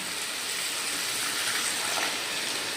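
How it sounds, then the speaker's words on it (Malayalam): Water is poured into chicken curry in a pan, making a steady, soft hissing gush that lasts briefly and stays fairly quiet and close, with no voices. "കുറച്ച് വെള്ളം കൂടി ചേർത്തിട്ട് നമുക്കിതൊന്ന് ചിക്കനൊന്ന് വേവിച്ചെടുക്കാം"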